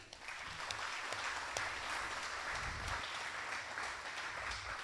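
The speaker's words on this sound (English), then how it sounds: "please give them a round of applause" Steady audience applause for speakers at a city and county address, a continuous wash of clapping from a large crowd, moderately distant and even in level throughout.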